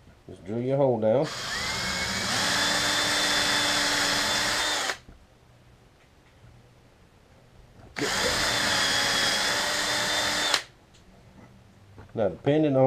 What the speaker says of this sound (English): Just drill your hole down.